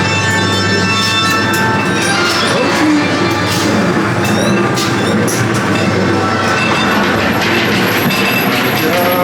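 A ride train at Blackpool Pleasure Beach rolls past close by, loud rhythmic clickety-clack of wheels on track with occasional metallic squeals and a faint bell.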